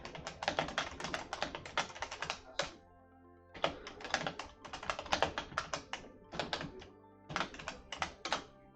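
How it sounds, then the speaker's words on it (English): Rapid keystrokes on a computer keyboard clatter close by in three quick runs separated by short pauses, with no speech. "Hold on, I'm gonna type it in the chat, Saint."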